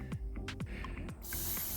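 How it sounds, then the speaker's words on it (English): Blaster silicone lubricant sprayed from an aerosol can onto a towel, several short close hisses and then a longer steady spray burst, without talk. "Get the lubricant spray on the towel, make it moist"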